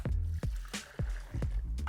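Water poured from a 5-gallon bucket back onto lime putty, heard as a series of wet, gurgling splashes and glugs arriving in uneven bursts close up.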